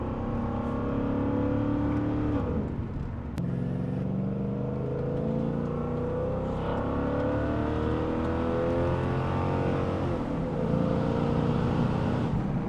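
A Lexus LS400 V8 with dual universal mufflers, a resonator delete and the exhaust valves open drones loudly and continuously, revving and easing through a downshift with a deep, throaty tone.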